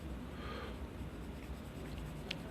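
Pencil coloring on paper while drawing a realistic eye, a soft, steady close scratching that runs continuously and faintly throughout.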